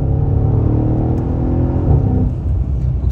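A stock Mercedes S63 coupe engine hums at low revs, a steady deep rumble with slight swells, moderately loud and continuous with no talk.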